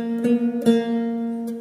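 Plucked strings of a Sundanese kacapi, tuned in pelog degung, sounding the narrow ti-to-la step: two close notes struck in quick succession and left ringing and overlapping, with a brief tap near the end.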